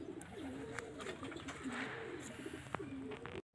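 A golden Rampuri pigeon coos in soft, rolling low phrases, three or four in a row, close and quiet, with no talk.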